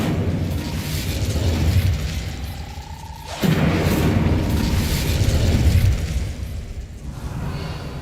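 A fire spell cast in a wizard video game: a rising whoosh, then a sudden loud burst of roaring flame that holds for a couple of seconds before dying down.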